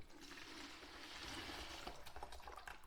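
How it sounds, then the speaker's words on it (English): Liquid is poured into a bucket in a steady gushing stream that runs on for a few seconds, then breaks into uneven splashes and glugs near the end. No one speaks. "I'm pouring this in the bucket"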